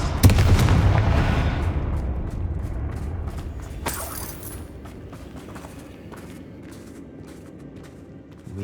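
A Confringo explosive spell in Hogwarts Legacy bursts with a heavy booming blast, followed by a rumbling decay, a sharp crack near the middle, and faint scattered clatter as things settle.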